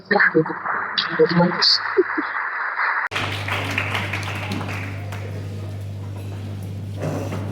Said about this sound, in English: Let's give a very last round of applause.